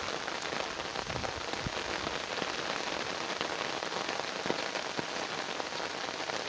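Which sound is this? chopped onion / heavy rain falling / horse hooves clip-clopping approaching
heavy rain falling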